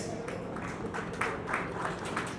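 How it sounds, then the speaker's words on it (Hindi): Conference audience applause continuing in a steady patter of hand claps, moderately loud and diffuse across the hall, with no talk on top. "Please keep giving big hands."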